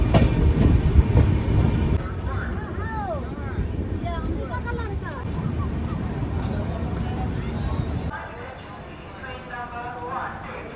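A passenger express train, the Kashi Tamil Sangamam Weekly Express, rolls out of a station with steady rumbling and clatter, heard from on board amid background voices and ambient noise.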